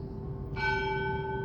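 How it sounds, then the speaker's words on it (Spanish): Church bells strike eight o'clock in the morning, a single clear ringing tone swelling in suddenly and sustaining with bright overtones over a steady low background hum. "8 en punto, ahí están las campanadas."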